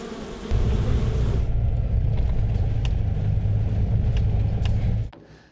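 A car towing a trailer on the drive home at dusk, with a steady low engine and road rumble that runs for several seconds and then cuts off abruptly, plus occasional light rattles.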